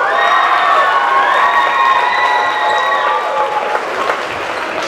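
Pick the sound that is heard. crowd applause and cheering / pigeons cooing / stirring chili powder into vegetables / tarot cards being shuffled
crowd applause and cheering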